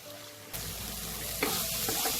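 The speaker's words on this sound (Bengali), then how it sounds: "দিয়ে এবার ততক্ষণ মশলাটাকে কষাবো যতক্ষণ না মশলাটা থেকে আমার তেলটা আলাদা হয়ে যাচ্ছে।" Spice masala with Kashmiri red chilli powder frying in oil, a steady close sizzle with brief stirring scrapes, no voices.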